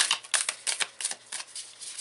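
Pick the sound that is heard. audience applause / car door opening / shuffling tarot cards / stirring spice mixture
shuffling tarot cards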